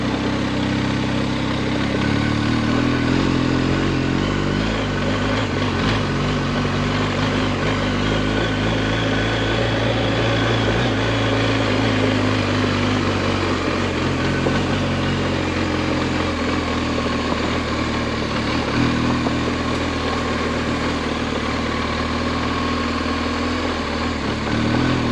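An adventure motorcycle riding on steep dirt roads in the North Carolina mountains, its engine droning steadily and loudly with wind rush for the whole stretch.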